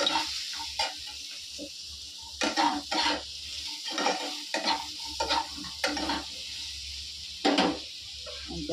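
Chutney cooking in a pan gives a quiet steady sizzle, broken by repeated bursts of spoon stirring and scraping against the pan, close and without voices.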